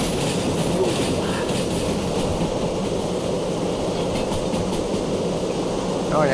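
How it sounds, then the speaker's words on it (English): A steam locomotive in Derail Valley climbing a grade, giving a steady dense rushing, chuffing roar that stays loud and continuous throughout, with no voices over it. "Alright, now we're chuffing."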